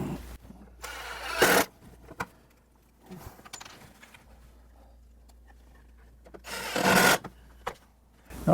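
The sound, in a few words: driving screws into wood for an Adirondack chair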